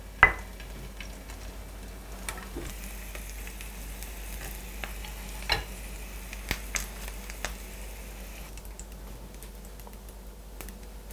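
Meat mandu dumplings fry in a hot pan on a switched-off stove, a soft steady sizzle with scattered sharp pops and crackles, quiet and close with no talk.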